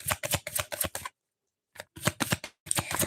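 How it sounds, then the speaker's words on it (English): Tarot cards being shuffled by hand in a few quick riffling bursts with short pauses between, close and clear, with no talk over them. "I need to shuffle."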